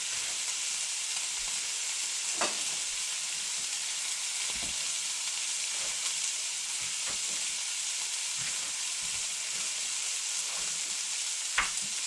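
A seasoned burger patty, salted, peppered and dusted with Accent, frying in a pan for a copycat Pal's sauce burger, giving a steady close sizzle with occasional sharp pops throughout, no talking.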